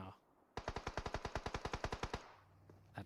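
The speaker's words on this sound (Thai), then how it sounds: "มุมนี้ยิงกดใส่หน้าของโยร้นะ" Rapid burst of automatic weapon fire in PUBG Mobile during a competitive esports match, about sixteen evenly spaced loud shots over roughly a second and a half, then a quieter background.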